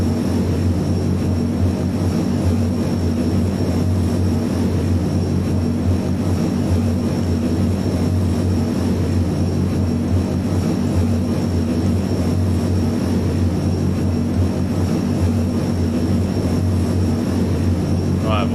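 Airbus A400M turboprop engines of the RAF throttle up for takeoff in Microsoft Flight Simulator 2020, a loud, steady, dense propeller drone that runs without break throughout.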